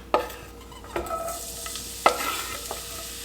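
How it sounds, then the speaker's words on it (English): Onion frying over medium heat in hot olive oil, with a soft steady sizzle and a few sharp clacks of a spoon being stirred against the pan. No one speaks. "So I'm going to fry this onion 4 to 5 minutes only"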